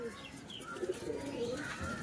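Cooing from a pair of red-eyed Kamagar pigeons kept for sale, soft repeated murmuring coos close by with light background noise and no clear talk.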